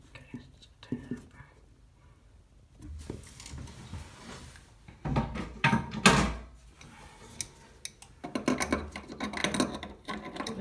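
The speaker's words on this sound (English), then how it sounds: "The adjustable spanner again." Adjustable spanner tightening the nut on a toilet siphon, with scattered metallic clicks and scrapes, short bursts of grinding turns and pauses, and a voice murmuring softly between them.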